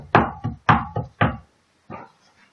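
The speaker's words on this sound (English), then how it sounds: "there came a deafening knocking at the door of the castle" Loud, heavy knocks strike a castle door, three sharp hollow pairs in quick succession followed by a softer, fainter knock after a short pause.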